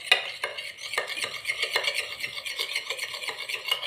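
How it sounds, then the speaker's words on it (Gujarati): A spoon stirs coffee powder into a little hot water in a cup while a homemade chocolate cake is being made, producing quick, continuous scraping and light clinking close by. "એની અંદર આપણે 2 ચમચી જેટલું ગરમ પાણી છે એડ કરી અને બરાબર મિક્સ કરી દઈએ"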